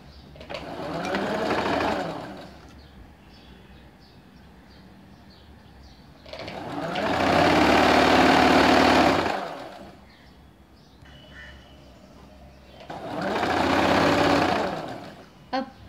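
A sewing machine stitches the inner seam of ladies' straight-cut pants, starting at the ankle, in three bursts of steady whirring separated by quiet pauses, close and fairly loud.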